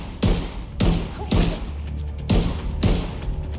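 Gunfire in The Division 2, heard as five heavy bursts spaced roughly half a second apart, each a sharp loud crack with a booming low tail, close and alone with no talk.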